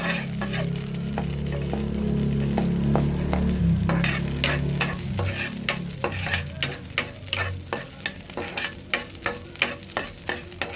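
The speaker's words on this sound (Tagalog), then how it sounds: "Ating gisahin ng bawang," Garlic sautéing in a pan for a bitter gourd and smoked fish dish, a steady close sizzle joined by regular scraping stirring strokes that grow sharper and more rhythmic as it goes, no voices.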